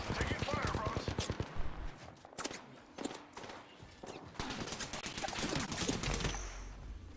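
Video game gunfire crackles in rapid bursts and fusillades, with several loud close shots and distant volleys over the clip, while players talk over it.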